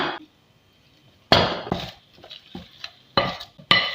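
Tuna, grated cheese and other filling ingredients mixed in a bowl for Tunisian brik cigars, with a spoon giving several sharp scraping, clattering bursts separated by short quiet gaps, close and fairly loud.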